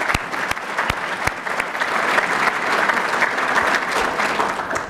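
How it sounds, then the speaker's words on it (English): At an entrepreneur-of-the-year banquet, the audience gives a full round of applause, a few sharp individual claps at first, then swelling into sustained, even clapping from a sizable crowd. "let's give her a round of applause for coming up here this evening"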